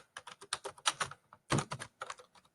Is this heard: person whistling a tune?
no